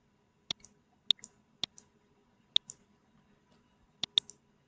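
Computer mouse clicks while navigating an invoicing software menu, six sharp, close, isolated clicks spaced unevenly, some followed by a faint release tick, in an otherwise quiet room.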